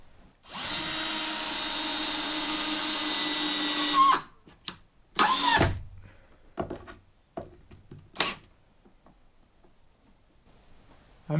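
A power drill drives a screw into a tiny-house loft ladder with a loud, steady whine lasting several seconds, followed by short bursts of drilling and scattered knocks and handling noises nearby.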